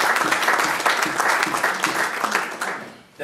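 Audience applause greeting the mayor Klaus Blome at a local gathering, a dense, steady clapping from a crowd that holds for about three seconds before tapering off abruptly at the end.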